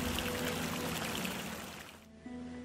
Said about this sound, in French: d'où l'eau jaillit à l'instant.